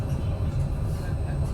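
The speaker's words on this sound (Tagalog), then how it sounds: "Sakay po tayo ng tram." A Barcelona city tram runs with a low, steady rumble and hum, heard from inside the car at moderate level for a short stretch.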